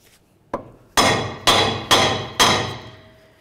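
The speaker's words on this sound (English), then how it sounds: "just use a hammer and give it a couple loving bonks to break it free." A light tap followed by four loud metallic hammer strikes on the lower ball joint of a 2010-2013 Ford Transit Connect, evenly spaced, each ringing briefly before the next blow.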